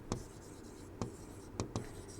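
A teacher handwrites during a chemistry lesson, giving a few sharp, separate tapping strokes over a steady room hiss, with no talking.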